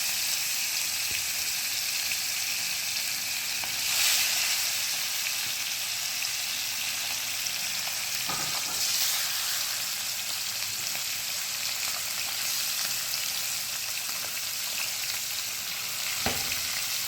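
Poa fish frying in a little oil in a pan or kadai, a steady broad sizzle running throughout with a few brief louder crackles, close and with no voices.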